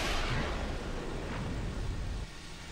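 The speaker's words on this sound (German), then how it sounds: "Irgendwas ist da eben explodiert draußen." An explosion outdoors in No Man's Sky, heard as a broad roaring rumble that fills the start and slowly dies away.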